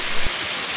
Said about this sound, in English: It would be nice to get up under that water that's coming down